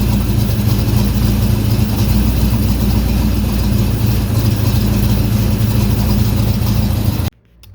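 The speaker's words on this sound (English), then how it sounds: "You can hear just the idle come down." A car engine idles loudly and close by, its low rumble lowering slightly after the ignition timing is adjusted, running steadily until it drops away suddenly at the end.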